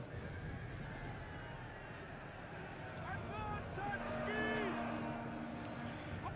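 Heavy cavalry horses in the battle game Rome 2 neigh and whinny in a couple of rising calls over a dense rumble of battle ambience, and someone talks quietly beneath it.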